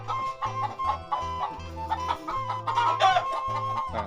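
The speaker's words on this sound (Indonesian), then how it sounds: "ayam pada ngendog ya nengnya" Several chickens cluck close by in busy, overlapping bursts, with a crowing call mixed in; no talking.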